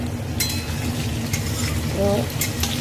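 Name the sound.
frying and stirring in pan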